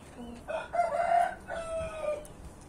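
Farm chickens cluck while a rooster crows a couple of drawn-out calls close by, with the strained crowing rising and falling over a few seconds.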